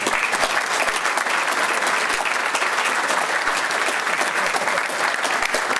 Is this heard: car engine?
no